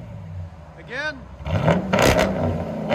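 A Dodge Durango R/T's 5.7L HEMI V8 exhaust barks through quick, loud throttle blips close up, preceded by a brief swooping whir, with the engine burbling between revs.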